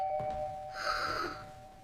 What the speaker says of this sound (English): Wait, I hear the doorbell.